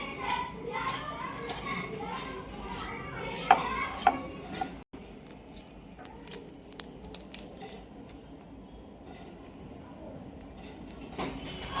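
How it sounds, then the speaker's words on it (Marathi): Knife finely chopping onion on a board, rapid close taps in uneven bursts, with light clatter in a home kitchen and faint background chatter. "आता कांदा बाजूने काढून घेते एका प्लेटीतनी. कापून घेऊ मस्त बारीक बारीक."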